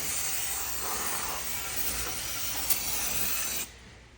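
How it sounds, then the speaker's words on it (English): Brake cleaner hisses from an aerosol can onto a clean aluminum valve cover in one steady, close spray for about three and a half seconds, then cuts off abruptly. "This one's really clean, so just brake cleaner will do."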